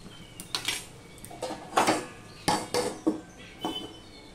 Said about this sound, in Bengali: এবার আমি আবারও ঢাকা দিয়ে দেব, তেলটা গলতে থাকবে।